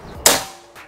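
A single sharp, loud shot from a Predator Bocap Tactical 500cc PCP air rifle cracks out, then fades quickly, with a faint second tick shortly after.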